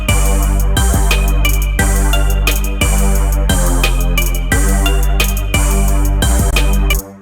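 A hip hop beat loops through its verse section with the staccato warp removed: heavy sustained bass, steady kick and snare hits and layered melodic synths, loud and continuous, with no talking.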